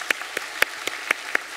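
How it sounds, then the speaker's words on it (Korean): A church congregation at a Sunday worship service claps in a sparse, loosely timed rhythm, a handful of distinct claps spaced across a couple of seconds. "우리 박수로 격려하도록 하겠습니다."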